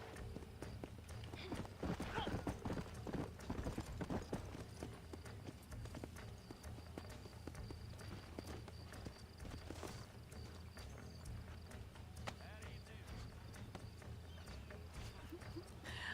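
Horse hooves clip-clop steadily in a video game, a continuous trotting rhythm under low background music, with a voice talking over it.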